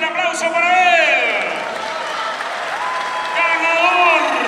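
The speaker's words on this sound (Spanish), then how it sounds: "el aplauso para él" Crowd at the Collision Fight Ultimate 11 event applauds the winning fighter, broad steady clapping and cheering with a shouted voice and whistle-like calls over it, loud and sustained throughout.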